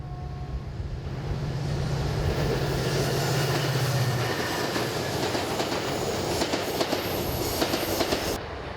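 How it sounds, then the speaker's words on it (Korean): Passenger train on the Gyeongjeon line in South Korea, heading from Suncheon toward Boseong: a steady rumble of wheels on rails with rhythmic clicking, a brief tonal hum early on, heard continuously and fairly close. "순천을 출발한 열차는 보성으로 접어든다."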